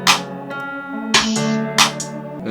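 Programmed FL Studio drums over a sustained melodic bed: sharp snare or hat hits about every 0.6 seconds in a steady groove, loud and upfront with no voice.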